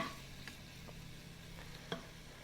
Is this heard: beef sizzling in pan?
yes